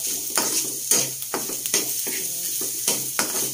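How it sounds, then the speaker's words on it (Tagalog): Filipino ginataang tinuto with tuna innards being sautéed in a pan, a steady sizzle broken by a run of short clinking scrapes as a utensil stirs against the metal, close and moderately loud with no talk. "Ito muna pong igigisa."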